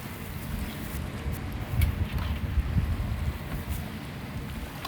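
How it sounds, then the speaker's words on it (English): Wind buffets the microphone outdoors beside a bayou at a crawfish cook-off, a steady low rumble with gusty swells throughout and no voices. "we have a good wind blowing directly in our faces"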